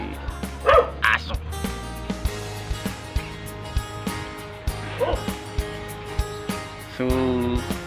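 A dog gives a run of short, sharp barks and yips, some clustered closely and others spaced apart, with a few whimpering notes, heard up close.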